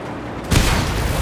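A sudden heavy boom erupts in the video game Mad Max, followed by a rumbling, crackling explosion wash that fills the rest of the short clip.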